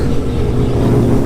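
Kawasaki Ninja H2 motorcycle pulling hard in first gear at a street meet-up, a loud, dense, close engine roar that holds steady and strong with no voices over it.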